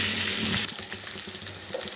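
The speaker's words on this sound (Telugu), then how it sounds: "ఇందులో ఉల్లిపాయలు, పచ్చిమిరపకాయలు, కరివేపాకు వేసుకుంటున్నాను" Onions, green chillies and curry leaves hit hot oil for a tempering, bursting into a loud crackling sizzle that eases into a steady, busy frying hiss, close by and with no voices.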